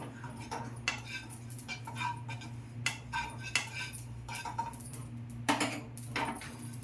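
Sesame seeds roasting in a pan for millet laddu, stirred with a spoon that gives repeated light metallic scrapes and clinks at an irregular pace over a steady low hum, close by with no talk.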